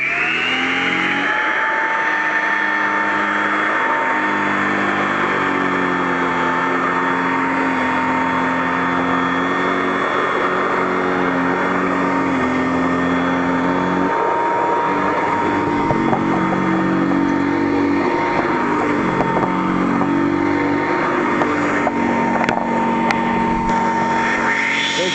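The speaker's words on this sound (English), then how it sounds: "here we go with the Royal Model 608. 3 amp motor, but it's direct aired, so has a lot of suction" A Royal Model 608 upright vacuum cleaner with a 3 amp direct-air motor runs loud and close, its motor whine rising in pitch as it spins up and then holding a steady roar throughout.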